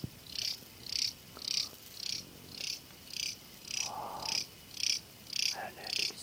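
A grasshopper calls in a Thai jungle with a rhythmic series of buzzy chirps, about two per second, close and steady, over faint background insect and forest noise.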